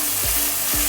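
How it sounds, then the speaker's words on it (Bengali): Paneer cubes fry in a pan over a low flame for a Diwali dahi paneer, giving a steady, close, loud sizzle for under a second before it cuts off. "দেখুন প্রায় ভাজা কমপ্লিট, লাল লাল করে আমি এক এক করে পনিরগুলো আস্তে আস্তে"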